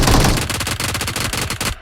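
Rapid automatic gunfire in the mobile battle royale game BGMI, a loud dense burst of continuous shots for nearly two seconds, cutting off abruptly at the end with no voices.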